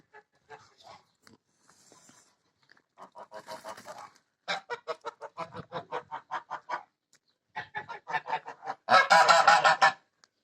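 Village geese honk in bursts, a few scattered calls at first, then rapid strings of loud, overlapping honks building to a noisy flurry at the end.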